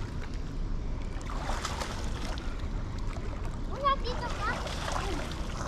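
Water thrown and splashing outdoors at a swimming spot, a few brief splatters over steady background water, with children and adults talking throughout.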